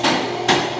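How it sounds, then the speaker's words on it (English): Two sharp metallic clicks of vehicle lift safety locks sound close by, a short pause between them, over a steady mechanical hum. "Now hear those double clicks."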